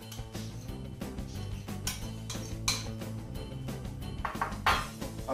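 Butter being mixed into crumbs in a bowl for a no-bake raspberry cream cheese yogurt cake, with steady clinking and scraping of utensil against dish, repeated knocks and louder clatters near the end, close and fairly quiet.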